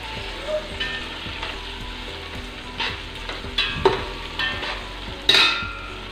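Tomatoes and chilies sauté in a pan for biryani, giving a steady soft sizzle broken by repeated scrapes and clinks of a stirring spoon, with a sharper clatter near the end.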